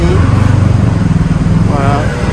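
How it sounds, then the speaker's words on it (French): Large Lamborghini SUV driving past on a street in Cannes, a steady loud engine rumble throughout with traffic noise around it and voices in the background. "Suivi du gros 4x4 ou SUV Lamborghini."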